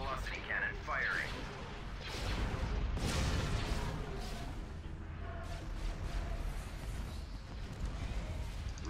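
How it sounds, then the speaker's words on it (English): Hypervelocity cannon fire from a space battle in the strategy game Star Wars: Empire at War, heard as heavy rumbling booms and crashes among in-game chatter and noise, with a strong surge in the middle. "Hypervelocity cannon firing."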